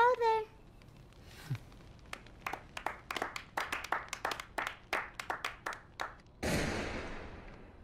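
Slow, uneven hand clapping in a dramatic horror film scene: about a dozen sharp, separate claps spaced across several seconds, preceded by a brief voice and followed by a burst of broadband noise.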